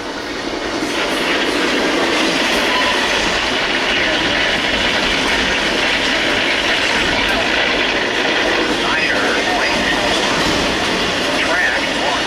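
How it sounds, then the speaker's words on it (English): A freight train rolls steadily and loudly past, its wheels bouncing over a railroad crossing in a dense, continuous roar of rattling cars that holds constant throughout. "Really bouncing over that crossing"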